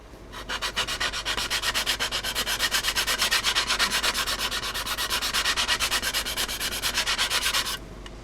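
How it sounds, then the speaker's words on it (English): A sanding stick rubs rapidly back and forth on a model rocket part, making a dense, rhythmic scratching of evenly spaced strokes that runs for about seven seconds close to the listener and then stops abruptly, with no talk. "I'm going to sand them out with my sanding stick"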